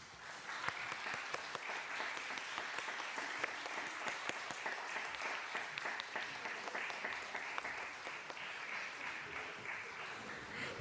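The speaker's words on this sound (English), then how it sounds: "Can we have all of our participants up on stage for a big round of applause and a bow?" Sustained audience applause for pageant participants gathered on stage at a winter solstice pageant, dense steady clapping filling the room for about eleven seconds without a break.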